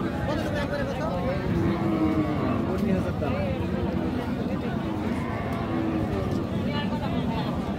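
Cattle at the Raniganj village cattle market, dry cows and heifers on sale, low lowing blending into a dense crowd hubbub with people talking throughout, constant and loud.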